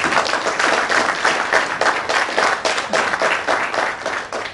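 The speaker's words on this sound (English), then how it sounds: "I think this merits a round of applause." A conference audience breaks into loud, close applause for a Kashmiri who topped the Indian Civil Service exams, the clapping pulsing in uneven waves that build and swell throughout.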